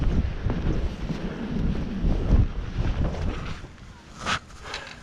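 Wind gusting across an exposed rocky shoreline, a steady broadband rush with low buffeting on the microphone, rising and easing over several seconds, with faint surf or water movement underneath and no talking.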